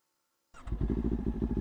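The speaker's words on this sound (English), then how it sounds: "The bike is now running" A motorcycle engine catches after silence and settles into a steady, close, rhythmic idle with a deep pulsing throb.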